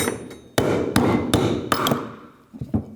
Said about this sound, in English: Here we go, hammer.